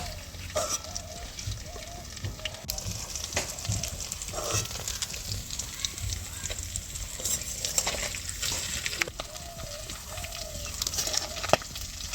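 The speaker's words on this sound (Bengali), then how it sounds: "মাছের তেলের বড়াগুলো সব একই রকমভাবে ভেজে নেব, আর এগুলোকে হালকা আঁচে ভাজতে হয়" Fish-oil fritters (macher teler bora) frying over low heat in a kadai, with a steady close sizzle throughout, occasional stirring clatter and a faint voice in the background.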